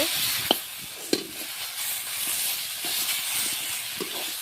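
Spices, including chili paste, being stirred and fried in a pan for Bengali egg curry: a steady hiss and sizzle throughout, with a few sharp clinks of the utensil against the pan.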